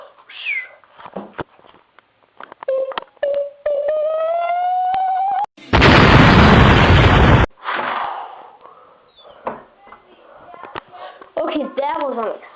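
Loud explosion blasting open a door in a video game, a dense roar lasting about two seconds between excited voices, meows and game noises.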